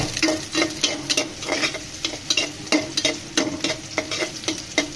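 Onions frying in a pan until brown, a close steady sizzle broken by repeated rhythmic scraping from stirring, with no talking.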